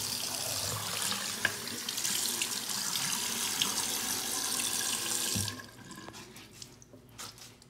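Water runs hard from a tap into a bath, a loud, steady gushing that stops abruptly partway through and leaves a few faint drips and bathroom sounds.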